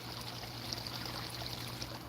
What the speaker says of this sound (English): It's got the little waterfall thing.